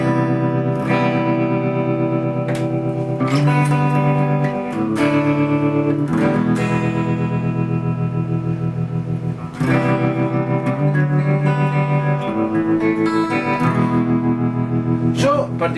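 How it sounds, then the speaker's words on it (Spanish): An electric guitar runs through a Ciclar vintage tremolo effect, sweet in tone and similar to a Vox AC30, playing ringing chords and melodic notes with pulsing volume and some reverb, alone and up front. "Es un trémolo con una sonoridad vintage, es muy dulce."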